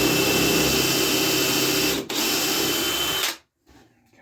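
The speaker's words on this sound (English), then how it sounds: "I am using an 1/8 inch drill bit" A power drill with an 1/8 inch bit whirs loudly and steadily for a few seconds while building a mini shredder, briefly dropping once, then cuts off into near silence.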